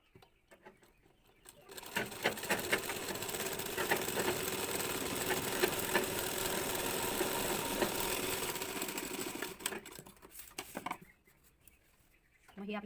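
A sewing machine stitches a slanted seam on a blouse neckline, a steady close whirring hum running for several seconds, then stopping, with quieter handling noise before and after.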